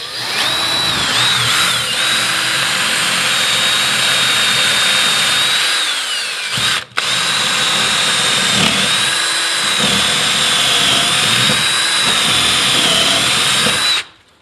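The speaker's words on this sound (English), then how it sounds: "So here we go with a pilot drill." A power drill bores a pilot hole during a hobbit house build, a loud steady high whine running about seven seconds, a brief stop, then another long continuous run before cutting off.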